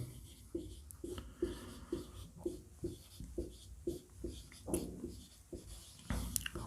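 Chalk or marker writing on a board during a Class 12 maths probability lesson, a faint, steady series of short rhythmic scratching strokes about every half second, with no talking in the clip.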